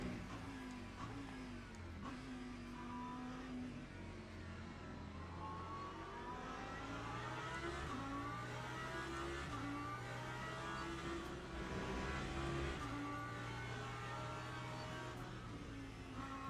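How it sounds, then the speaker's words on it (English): Hypercars race past in Le Mans Ultimate, a steady loud roar of high-revving engines with several overlapping pitch sweeps as cars accelerate and pass, continuous throughout with no talk. "Look at the hypercars flying. Absolutely flying in comparison."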